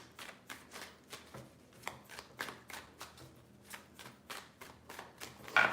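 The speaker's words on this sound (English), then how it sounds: "3 shuffles." A deck of tarot cards is shuffled by hand in a quick run of crisp, riffling bursts, about a dozen evenly spaced flicks, close to the microphone and fairly soft, with no talking.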